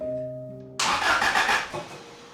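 A car's starter motor cranks briefly and the engine catches and fires, running loudly for about a second before settling down.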